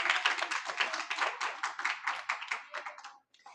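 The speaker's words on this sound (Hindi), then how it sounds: "बिटिया के लिए जोरदार तालियां" Loud applause for a schoolgirl being honoured with a medal and prize at a school and coaching toppers' award ceremony, a dense crowd of clapping hands filling the room for over three seconds before quickly dying away.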